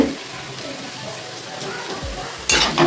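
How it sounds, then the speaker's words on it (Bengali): Soft, steady sizzle of ginger paste frying in a pan, with a couple of thumps and a louder burst of spattering near the end. "আমি এবার এই আদা বাটাটা দিয়ে দেবো আদা বাটাটা ওর সঙ্গে একটু ভেজে দেবো ফোড়নের সঙ্গে"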